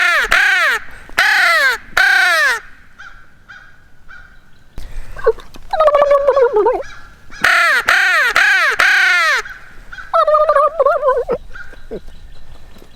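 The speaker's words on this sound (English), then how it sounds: "At least we got the crows to gobble back." Crows cawing in the woods on a Missouri turkey-hunting morning: loud, close bursts of three or four harsh caws, repeated, with quieter, throatier calls in the pauses between.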